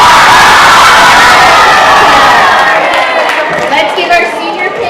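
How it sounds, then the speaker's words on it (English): An audience at a master's presentation cheers and whoops loudly, a dense crowd roar that thins and fades toward the end. "Let's give Tanner a round of applause"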